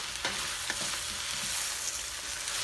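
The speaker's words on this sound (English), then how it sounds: "Let's give this a stir, because we don't want to, but I want to smother my cabbage just a little." Cabbage cooking in a pot for creamy cabbage soup, with a soft steady sizzle and a few quiet scraping stirs of a spoon.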